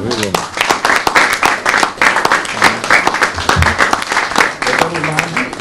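An audience claps steadily through a sports awards or celebration event, the applause dense and sustained with voices and cheering mixed in underneath.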